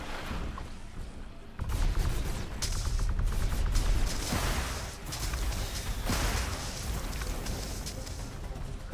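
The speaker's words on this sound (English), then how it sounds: "Artillery's firing." Artillery firing in the video game The Riftbreaker, a steady barrage of booming shots and rapid bursts of gunfire, dense and fairly loud after a quieter start, with faint game effects.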